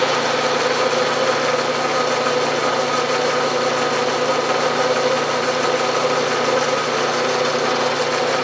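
A milling machine runs steadily while a half-inch edge finder is brought to the edge of a workpiece for a toolmaker's vise, giving a constant, fairly loud mechanical hum and whir with no talk.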